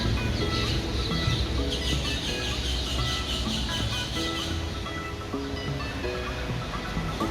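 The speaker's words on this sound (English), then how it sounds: "road facing with lots of beautiful sounds of parrots and other birds" A busy chorus of parrots and other birds chirping and squawking outside a road-facing apartment window in Vasai East, over a steady wash of outdoor background noise, continuous throughout.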